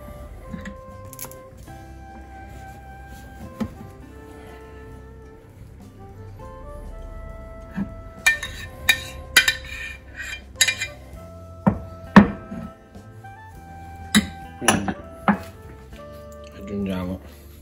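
Béchamel being spread into a baking dish for pistachio lasagne brings sharp clinks and scrapes of a utensil against the dish, irregular and close, growing busier toward the end over a quiet background.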